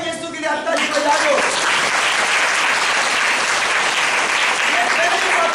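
A congregation at a church service applauds for Jesus, with a preacher's voice trailing off at the start before sustained, dense crowd applause fills the rest.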